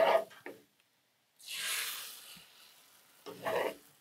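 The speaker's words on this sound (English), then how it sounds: "while we're frying up these eggs real fast" Eggs sizzling and crackling in a hot pan, in bursts with brief quiet gaps, close by and moderately loud, with some stirring or scraping.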